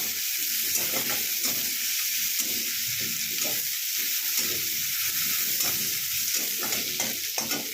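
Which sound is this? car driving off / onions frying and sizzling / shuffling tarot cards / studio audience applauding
onions frying and sizzling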